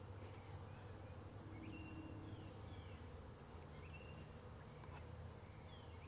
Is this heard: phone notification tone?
no